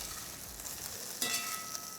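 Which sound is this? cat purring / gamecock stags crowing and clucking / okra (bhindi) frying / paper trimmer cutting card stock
okra (bhindi) frying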